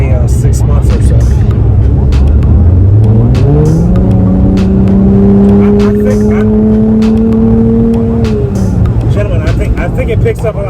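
Dodge Challenger with a newly installed throttle body accelerating hard, its engine note climbing steadily in pitch as the revs rise, loud and close with continuous road and engine roar throughout; voices talk faintly underneath.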